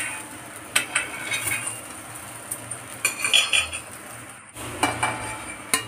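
A rice-flour potato dosa roasts on a tawa griddle, with scattered metallic scrapes and clinks of a spatula or utensil against the pan over a low, steady kitchen background; no one speaks.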